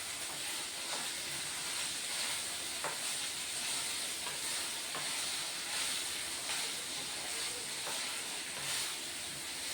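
Ingredients for a carrot fry hiss and sizzle steadily in a pan, a continuous broad frying noise with faint ticks of movement.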